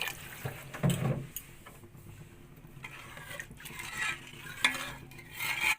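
Water is poured into fried masala for an egg curry and stirred in a pan, giving scraping, splashing stirs and a soft sizzle in bursts, close and moderately loud, with no talk.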